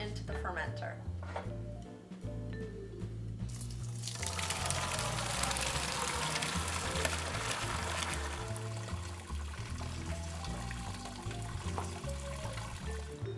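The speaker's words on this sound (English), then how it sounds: "Now we're going to strain the wort into the fermenter." Wort being strained into a fermenter during IPA homebrewing: a steady, close pouring and splashing of liquid that swells into a dense rush partway through, running continuously under background music.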